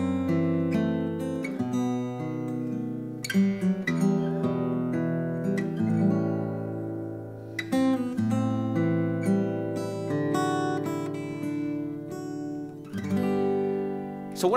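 An unaccompanied guitar plays a minor-key secondary 2-5 chord progression with rich voicings, each chord strummed and left ringing, several changes over roughly fifteen seconds without resolving, with no talk.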